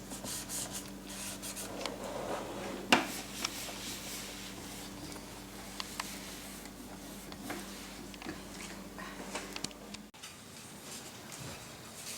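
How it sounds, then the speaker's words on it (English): Cloth rubbing and wiping inside the basket of a Philips XXL Premium Airfryer, soft scratchy strokes and light taps close by, with one sharper knock early on. "Just want to wipe out the inside of the air fryer because you don't want it to cake up with the grease"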